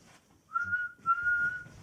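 A whistle standing in for a big blue steam engine's whistle, two clear, high, steady toots, the second longer, close and fairly quiet, likely a person imitating it.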